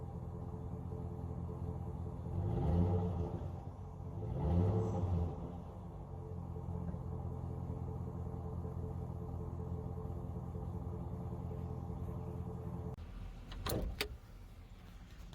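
Extended-cab pickup truck with a 5.3 liter Vortec V8 idling outside, a low steady rumble with two brief swells as if revved, then a few sharp clunks near the end.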